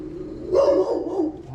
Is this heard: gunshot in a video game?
no